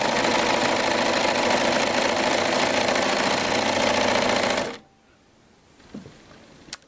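An overlocker stitches and turns a fabric rouleau strap, its steady dense mechanical whir running loud and continuous for several seconds before stopping abruptly, leaving a quiet room with a couple of faint clicks.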